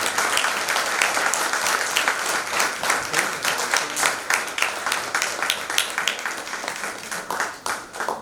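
An audience at a Sanskrit play performance claps enthusiastically, crisp individual claps audible within a lively, sustained round of applause that stays fairly loud throughout.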